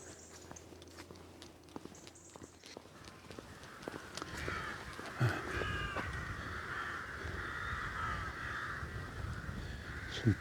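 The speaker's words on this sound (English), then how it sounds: "Some crows or rooks there." Crows or rooks caw at a distance during a murky outdoor walk near a water tower, with scattered faint calls over quiet background noise and nearby footsteps or rustling.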